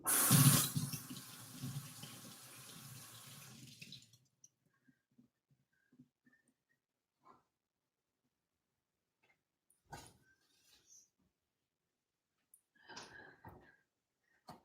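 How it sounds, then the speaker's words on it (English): Fruit is rinsed under a running tap, a close, steady splash of water that lasts about four seconds and then stops, followed by quiet with a few soft knocks and clatters. "So now I'm going to connect deeper with the water element by rinsing it off."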